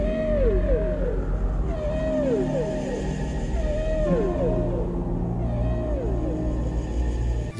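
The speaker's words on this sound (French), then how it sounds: "comme les chants de baleines qu'on entend dans le thème du début" Whale songs run through the opening theme of the score for the film Leviathan, with repeated long, sliding, moaning calls rising and falling over a deep, sustained orchestral rumble, loud and continuous.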